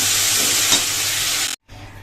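Potatoes and onion greens frying in a pan, a steady loud broadband sizzle with stirring for about a second and a half, then a brief cut to silence before the frying resumes more quietly.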